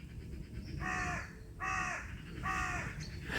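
A crow caws three times at a steady pace, clear and moderately close, outdoors against a soft background hiss with no voices.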